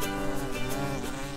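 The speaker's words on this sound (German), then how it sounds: "hier sind richtig viele Bienen unterwegs. Ja, das stimmt. Hier summt es nur so." Bees buzzing in a garden, a steady, continuous insect hum filling the whole moment at close range, with no voices.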